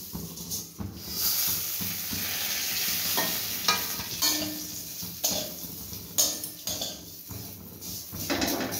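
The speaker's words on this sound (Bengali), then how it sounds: "তাও আমি ঘিয়েতে আর একটু ভেজে নেব সামান্য" Vermicelli sizzles steadily as it fries in ghee in a kadai, with a constant hiss broken by the scrape and clink of a spatula stirring it, close up with no talk.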